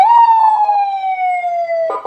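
A Whelen-style tone from a CJB 100A siren upgraded from a CJB 100PD gives one loud, close, sustained wail that slowly falls in pitch before a brief change in tone at the end.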